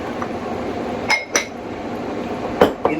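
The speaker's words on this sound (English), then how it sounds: "Alright, so we mix." Lasagna ingredients, including egg and salt, are stirred in a dish, giving four sharp clinks of utensil against the dish over quiet kitchen background noise.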